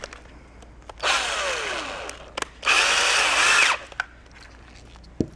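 Two loud bursts of a power drill whirring, each lasting about a second, separated by a short pause, close by with faint clicks around them, during bench preparation of remote car starter wiring.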